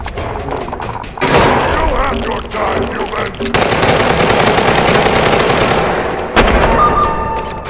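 Rapid automatic gunfire in Fallout 4, loud and sustained with dense bursts broken by brief gaps, while a voice speaks over the shooting.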